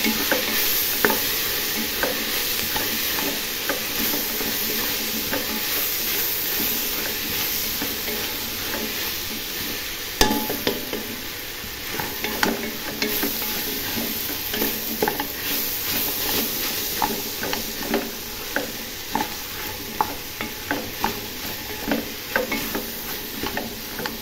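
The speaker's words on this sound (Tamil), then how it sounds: "நல்லா ஒரு மிக்ஸ் பண்ணி வச்சுக்கலாம்." Vegetable biryani mixture with mint and coriander being stirred in a pan, a soft continuous sizzle under repeated close scraping and tapping strokes that grow more pronounced toward the end, with no voices.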